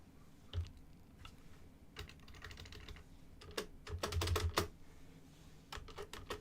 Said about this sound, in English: Something wrong with my my keyboard's space bar for some reason.